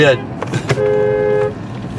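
A car horn honks in a short steady tone lasting under a second, with traffic noise and speech-like sounds around it, in a suburban yard during a summer picnic.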